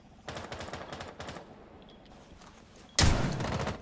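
Rainbow Six Siege gunfire: rapid automatic bursts, then quieter scattered shots, then a sudden loud close burst at the end, with no voices over it.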